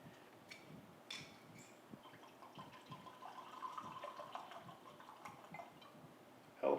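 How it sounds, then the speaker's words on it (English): Scotch whisky pours into a glass with faint trickling and soft liquid glugs, quiet and close, ending in a brief louder clink. "Hell of a pour there, Dan."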